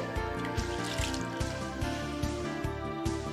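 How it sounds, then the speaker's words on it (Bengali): Bengal gram lentils being rubbed and washed by hand in water, giving close, repeated splashing and trickling sounds in an uneven rhythm, without speech. "হাত দিয়ে কচলে কচলে ডালগুলো ধুয়ে নিতে হবে।"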